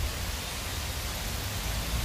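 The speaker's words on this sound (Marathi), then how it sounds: "काय पाऊस पडतोय राव, तुम्हाला काय सांगू, लय भारी पाऊस पडतोय" Heavy monsoon rain pours down outdoors as a steady, dense hiss of broadband noise with no breaks, loud and continuous throughout.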